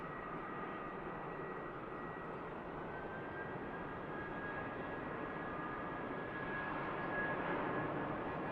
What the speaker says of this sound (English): Aircraft on finals is an EasyJet 320 Neo coming in from Paris